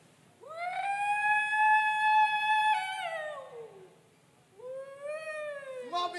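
A voice imitates an ambulance siren during a stage skit at the Pulo Aceh festival, with two long wailing tones, the first rising and holding and then falling, the second rising again, close and fairly loud.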